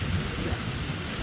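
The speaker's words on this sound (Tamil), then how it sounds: "மழை பெய்யுது." Steady heavy rain falling at a seaside fishing beach where a shore net is being hauled, a dense continuous low rumbling wash with no talk.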